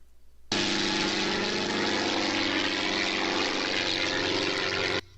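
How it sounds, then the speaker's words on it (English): A propeller plane passes overhead at night, its loud, steady droning hum cutting in abruptly, holding at an even level for several seconds, then stopping just as suddenly. "Why is there a plane going over?"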